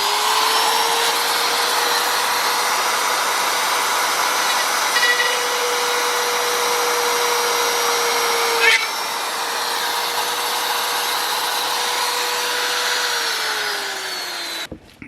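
A power drill with a 6.5 mm bit bores a hole during a repair of the regulator on a router, its motor whining steadily and loudly for about fifteen seconds with a slight dip midway and no talking.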